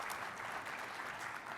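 Quiet, dense applause from a conference audience at a tech keynote session, a continuous soft wash of many hands clapping at a distance for a brief moment.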